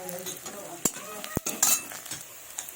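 Chopped onion and tempering spices sizzling in mustard oil in a pan, a soft steady fry under a few sharp clinks and scrapes of a stirring spoon against the pan, close but fairly quiet.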